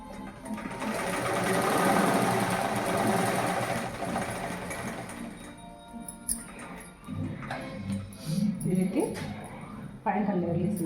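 A sewing machine stitches a blouse with a fast, even mechanical whirr and ticking that runs strongly at first, then turns into shorter bursts as a voice speaks nearby.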